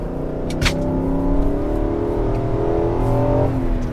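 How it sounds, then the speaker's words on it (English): A 2023 Infiniti QX80's V8 exhaust drones steadily under acceleration, a deep, continuous rumble with rising engine tones, heard close and fairly loud. "It does deliver a V8 exhaust note."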